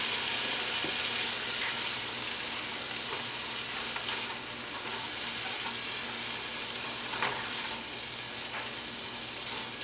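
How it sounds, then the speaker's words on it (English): Aromatics sizzle in a pan for a vegan lentil curry while being stirred, a steady, close hiss with light scraping, and no talking. "So you want to stir so our aromatics don't get burnt."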